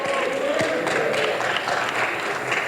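A congregation at a Detroit church applauds steadily, dense clapping with a few voices mixed into the crowd noise.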